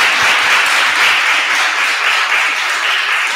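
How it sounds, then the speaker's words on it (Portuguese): Audience applause for a school choir at a fourth-grade rite of passage ceremony: dense, steady clapping from many hands that fills the whole stretch without a break. "palmas para o nosso coral."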